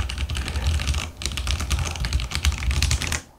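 Fast typing on a Ducky One 3 Mini 60% mechanical keyboard with stock, unlubed switches: rapid, close clacking keystrokes that run almost continuously, with a brief lull midway and another near the end.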